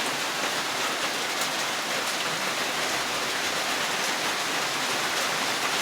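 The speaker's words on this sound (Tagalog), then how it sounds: "Maulan po dito sa amin" Steady, dense rain falling on a wet morning, a continuous even hiss with no breaks and no voices.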